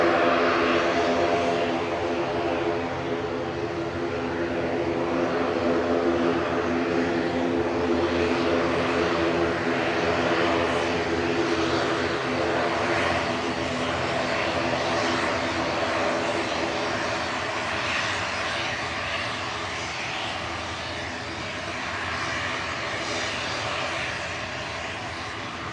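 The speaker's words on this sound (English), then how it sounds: "Ryanair just touching down from Vienna, 123 right." A Ryanair airliner landing at Manchester Airport, its engines a loud, steady roar that holds for the whole stretch and slowly eases, heard from an outdoor spotting position with no talk.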